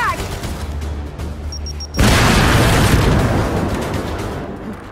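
Frag grenade explosion in the video game Gears 5, a sudden loud blast breaking in partway through, then a sustained roaring rumble and debris wash that slowly tapers off, with faint game sounds before it.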